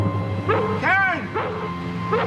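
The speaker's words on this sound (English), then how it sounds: "At the back door, the family dog starts barking." Family dog barking at a house's back door, a few yelping, whimpering barks spaced out, fairly close, with a steady low background hum.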